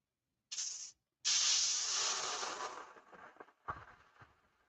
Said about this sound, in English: Hopefully we're not getting any overspray going that direction.